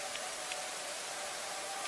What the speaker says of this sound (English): despite the fact that it is raining hard